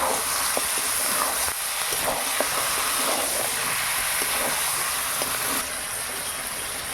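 Mutton is sautéed in a pan with a loud, continuous hissing sizzle and occasional light stirring clicks, steady throughout with no talking.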